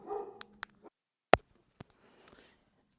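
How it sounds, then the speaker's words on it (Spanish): A few short, sharp dog barks, scattered and somewhat distant, with one louder bark standing out among quiet gaps. "si escucharon unos ladridos atrás"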